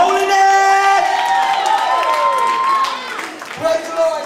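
A church crowd cheers, whoops and claps for a Memphis gospel choir, with loud overlapping shouting voices and sustained tones throughout.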